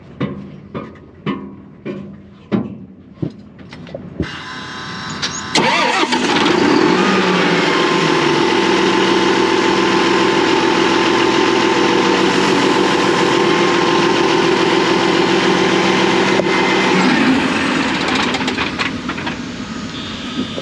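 A tractor with a leaking hydraulic line under the cab cranks over in a series of sharp pulses, then catches and settles into a loud, steady running drone that fades down near the end.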